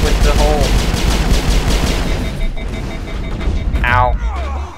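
Rapid gunfire from a firefight with Cerberus commandos in Mass Effect, loud, dense and continuous, with repeated shots rattling throughout and a brief burst of voice near the end.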